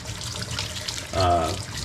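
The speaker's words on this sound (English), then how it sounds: "that's all we're doing is we take cold water" Cold tap water runs over home-grown cucumbers being washed by hand at a sink, a short splashing gush that swells briefly near the end.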